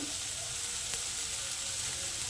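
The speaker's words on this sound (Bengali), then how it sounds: "আবার একটু মশলাটাকে কষে নেব হালকা করে।" Spice paste fries with tomato in a pan, giving a steady, close, loud sizzle that runs evenly throughout, with only a faint stir or tap now and then.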